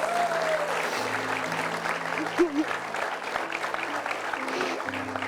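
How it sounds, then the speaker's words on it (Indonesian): Audience clapping on a comedy show stage, moderate and steady, with a low musical tone and a brief vocal sound mixed in. "Sekali lagi boleh tepuk tangan untuk Mbak Yes"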